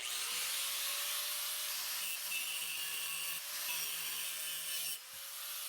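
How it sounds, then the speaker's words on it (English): A high-pitched angle grinder cutting metal on a wrecked Jeep Rubicon whines steadily at close range, its harsh rasping screech shifting slightly in pitch before briefly dipping near the end. "we're gonna get to grinding"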